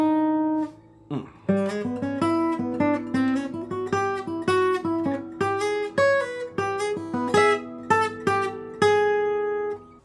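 A section of a melody played as a lively run of plucked or struck melodic notes, close and clear, with steady rhythmic phrasing and a short pause after the opening note before the tune gets under way.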